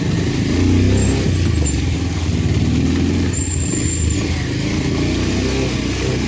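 Vehicles rumble past on a mountain road on the Mahog–Tharmi route, a steady loud engine drone with a passing motor that swells and fades, no talk.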